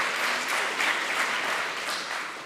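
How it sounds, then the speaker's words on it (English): A congregation applauding together at an annual meeting, a short dense burst of clapping with no one talking. "we should applaud that"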